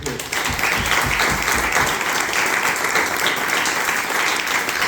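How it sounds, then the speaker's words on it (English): Sustained audience applause from a crowd at a mental health talk event, dense and steady clapping filling the room for about five seconds with no speech over it. "give them a round of applause"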